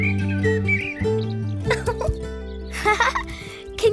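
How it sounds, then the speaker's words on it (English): A cartoon bird character from a children's spring episode sings in bright, chirpy tones over a light musical backing, with high trills and short tweets rising above sustained accompaniment. "Can you hear Little Bird singing?"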